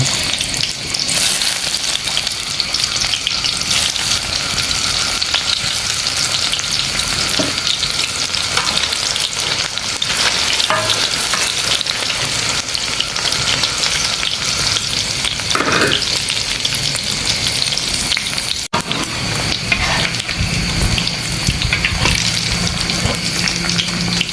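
Tofu and tempeh fry in a pan with a steady, loud hiss and crackle, broken by occasional stirring and scraping sounds, continuous and close throughout.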